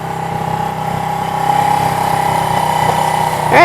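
A cafe-style motorcycle engine idles steadily up close with a low, even drone, running the whole time before a brief louder change near the end.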